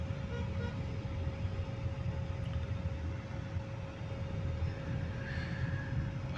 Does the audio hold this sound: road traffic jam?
yes